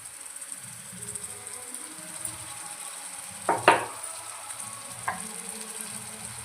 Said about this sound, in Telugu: ఇప్పుడు ఉల్లిపాయలు బాగా ఫ్రై అవ్వాలి.